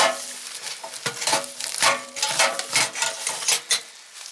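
Parts of a cooking pot, a lid and a divided bottom, are handled up close, giving loud, rapid metallic clanks, scrapes and rattles in an irregular run with no talking.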